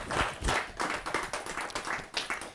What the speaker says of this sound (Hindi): जोरदार ताली के साथ उनका अभिनंदन